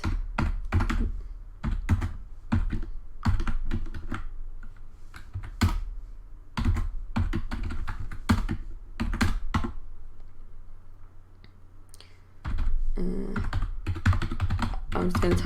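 Steady typing on a computer keyboard while writing code for a game tutorial, close and clear, with dense runs of key clicks, a short pause, then more rapid keystrokes.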